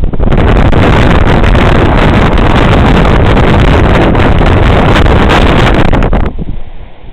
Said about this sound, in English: 35 mile an hour winds and dust